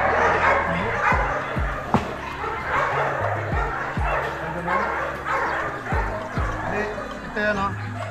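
A K9 dog barks repeatedly in short, sharp bursts close by, some yips and whimpers mixed in, while several people chat over and between the barks.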